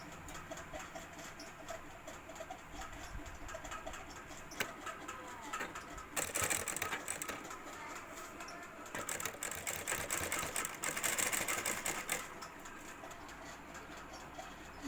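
Sewing machine stitching the top side edge of a cloth grocery bag handle, a steady close whirring run with brief pauses and louder bursts of fast stitching, no talking.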